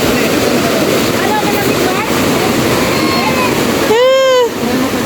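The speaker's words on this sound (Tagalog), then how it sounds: "Sobrang lakas nga lang kasi ng tubig ngayon." Strong rushing river water at an outdoor outing spot with a rock-lined natural swimming pool, a loud continuous roar close to the microphone with wind buffeting, and a brief whistle-like tone near the end.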